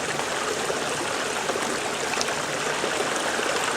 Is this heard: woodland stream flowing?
yes